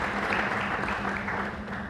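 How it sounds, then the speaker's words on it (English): Audience applause at a presidential forum keynote, welcoming Dr. John Sanchez; steady, dense clapping at moderate volume throughout, with a faint low hum beneath. "How about a round of applause for Dr."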